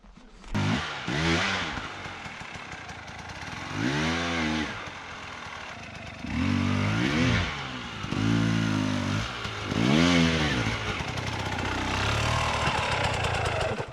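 KTM motorcycle engine revving and surging in repeated bursts while riding over an obstacle, loud and close with rising and falling pitch, no talk.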